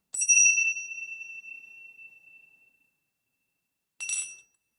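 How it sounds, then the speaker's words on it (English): A small bell is struck once, ringing out with a clear tone that slowly fades, then a second brief strike near the end. "And then you ring the bell."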